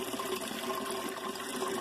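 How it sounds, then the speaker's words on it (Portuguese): Water pouring from an aquarium overflow into the settling tank of an urban tilapia tank setup, a steady close rushing splash with no talk. "por onde a água vem do overflow e entra aqui no decantador"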